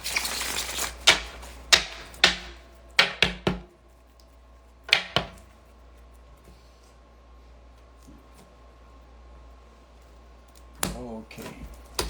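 A tarot deck is shuffled in quick bursts of sharp, crisp card riffles and slaps, clustered early on and again near the end, with quieter gaps between.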